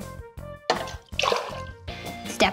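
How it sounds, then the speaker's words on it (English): Hydrogen peroxide is poured into a glass in a few separate bursts, with short gurgling splashes and drips separated by pauses, over a soft tonal background. "we need to pour half a cup of hydrogen peroxide into this glass"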